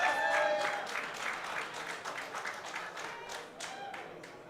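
A crowd of fans at a world sub-junior and junior powerlifting championship applauds and cheers steadily, dense clapping strongest at the start and then easing slightly while staying continuous throughout.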